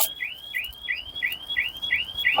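An electronic beeping device in a pear orchard chirps in a regular repeating series of short rising electronic tones, about six evenly spaced chirps, clear and moderately loud with no talk.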